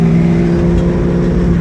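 A 1968 Chevy Camaro with a 396 big block, dual feed Holley carburetor, Edelbrock intake, MSD ignition, coated headers and 2.5-inch Flowmaster exhaust idles close and loud with a deep, lopey rumble and no talking.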